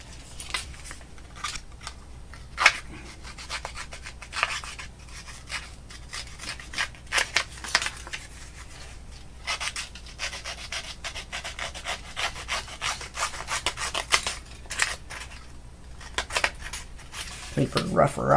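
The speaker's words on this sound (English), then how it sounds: "Paper rougher upper." A Tim Holtz paper rougher upper drags across paper in repeated rasping scuffs, dense scratchy strokes running steadily at close range with a louder burst near the end.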